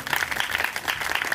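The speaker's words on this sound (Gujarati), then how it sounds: "એકવાર તાળી પાડો મફતમાં." An audience at a devotional bhajan programme claps together in a quick, steady patter that stays fairly close and even for a moment.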